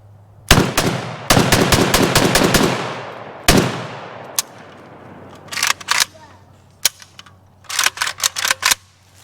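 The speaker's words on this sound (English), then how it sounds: "let's let my youngest brother put a few rounds through it" A North Korean Type 58/68 AK rifle fires outdoors in loud, sharp cracks. Early shots ring out with long echoing tails, and later come short bursts and clustered single shots, with quiet gaps between them.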